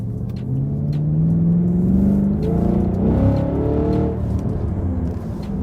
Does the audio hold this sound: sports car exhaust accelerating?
yes